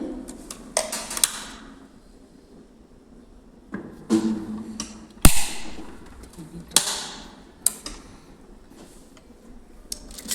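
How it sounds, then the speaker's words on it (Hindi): A sewing machine runs a plain straight seam on plain cloth in short bursts, its rapid ticking needle strokes stopping and restarting, close and clear with no talk. "सबसे पहले एक प्लेन सिलाई करते हैं।"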